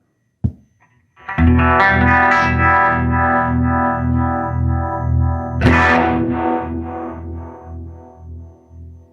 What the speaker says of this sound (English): you're hearing that tremolo back and forth, and the reverb is only in the little speaker